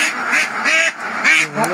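A duck quacks several times in quick succession, loud and close, in a farmyard setting where ducks and chickens are being vaccinated.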